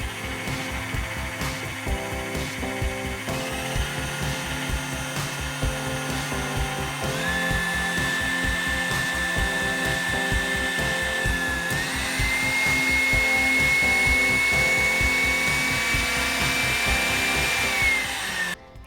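A KitchenAid stand mixer runs steadily with a whirring motor and gear drone, its pitch stepping up partway through as the speed rises, close and without voices.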